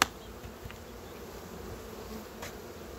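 Honey bees buzz continuously around an open hive while a beekeeper works with frames of honey, a dense, steady drone of many insects with a few louder passes nearby.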